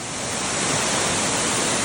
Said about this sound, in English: Gonna check out this waterfall.